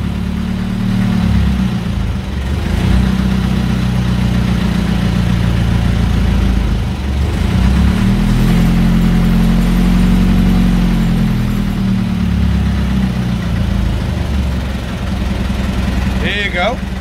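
A 1941 Mercedes Wehrmacht truck engine idles with a loud, low rumble, its pitch rising and falling several times as the throttle cable is worked up and down; a voice speaks briefly at the end.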